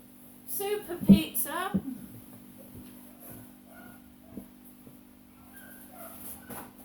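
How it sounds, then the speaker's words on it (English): A small dachshund barks and yips a few times nearby, sharp high bursts early on, then quieter sounds with a steady electrical hum beneath. "That's the next door neighbour's dachshund barking."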